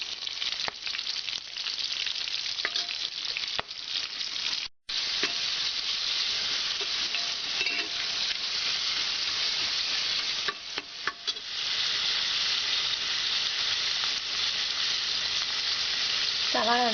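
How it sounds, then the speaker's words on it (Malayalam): Chopped onions sauté for Kerala-style beef biriyani, giving a steady, close sizzle and hiss throughout, with occasional stirring scrapes in the pan. "ഇതിലേക്ക് അരിഞ്ഞു വെച്ചിരിക്കുന്ന സവാള വഴറ്റാനായിട്ട് ഇട്ട് കൊടുക്കാം."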